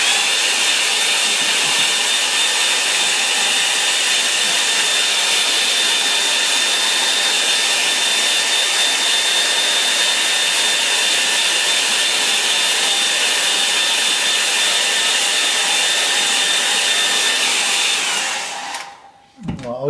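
A hair dryer blows steadily and loudly at close range over a watercolour painting of a clearing autumn shower, a continuous whooshing roar that runs unbroken for most of the stretch before abruptly cutting off near the end.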